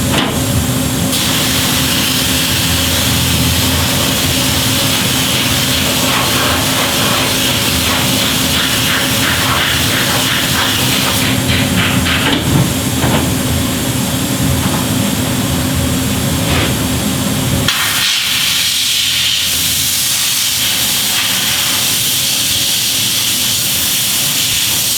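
A torch hisses loudly and continuously while burning off a coating from a plate during PChrome work, a steady roaring rush that shifts in tone near the end.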